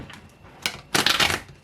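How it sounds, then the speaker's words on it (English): Tarot cards are shuffled close by, with a quick riffle and then a longer papery burst of cards sliding and slapping together in a quiet room. "One more shuffle."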